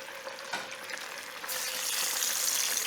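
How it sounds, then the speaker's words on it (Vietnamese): Cooking oil poured into a frying pan to fry tofu: a soft, steady broadband hiss, fainter for the first moment and then louder and fuller, with no voice. "Cho dầu vào chảo."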